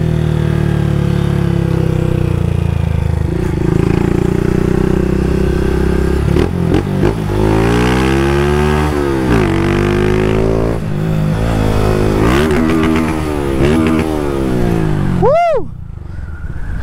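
Honda Start 160 motorcycle fitted with a GRS Curva Fina exhaust, idling loudly up close, then revved repeatedly in rising and falling bursts, ending in one sharp blip and cutoff.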